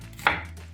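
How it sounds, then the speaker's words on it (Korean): A single sharp knife chop lands on a cutting board while an onion is finely sliced, close and crisp, with quiet room tone around it and no talk. "이렇게 갈리기 수월하게 이렇게 잘잘하게 썰시면 돼요"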